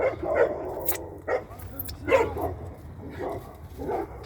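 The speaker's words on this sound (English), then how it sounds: "Oh, the dogs are going crazy." Several dogs bark and yip in bursts, fairly near, at a campsite, with barks overlapping one another in an uneven, excited rhythm.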